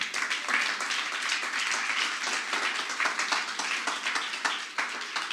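Audience applause at a talk or sermon, a steady wash of clapping hands that stays loud and dense throughout with no voices over it.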